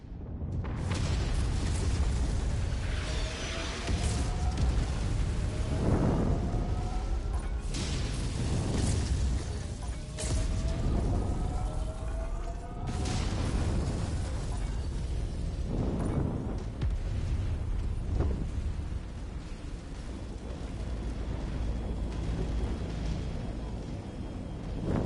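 A sustained barrage of artillery explosions in a video game, booming blasts landing one after another over a constant rumbling roar, loud and continuous throughout.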